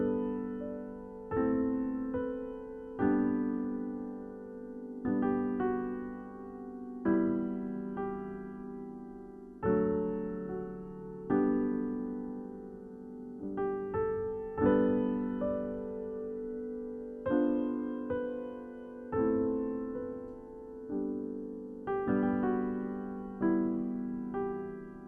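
Live-stream intro music played on piano: a repeating pattern of ringing chords struck roughly every one to two seconds, each note sustaining and fading, heard clearly alone without speech.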